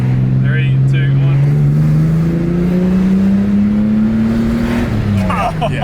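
A Ford AU Falcon accelerates hard in second gear, its engine drone climbing steadily in pitch for several seconds before easing off, loud and close from inside the car, with people talking briefly over it.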